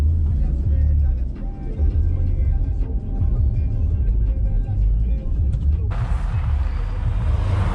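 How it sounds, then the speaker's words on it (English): Cars idle and roll past in a traffic jam at city lights during quarantine in Russia, a steady close engine rumble with passing vehicle noise and a brief louder whoosh near the end. "So as you can see, there's still cars on the road."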